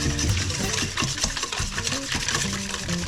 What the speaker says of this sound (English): I'm going to whisk that together a little bit.